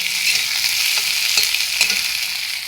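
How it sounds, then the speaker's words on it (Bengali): Potatoes frying in hot oil with onion and garlic, a steady close sizzle with occasional stirring scrapes throughout. "আলুটাকে আমি ভালো করে ভেজে নেব"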